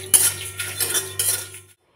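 Spoon or spatula clinks and scrapes in a pan as whole spices, including cumin and crisp bay leaves, are dry-fried, giving three short bursts of close metallic stirring before it stops.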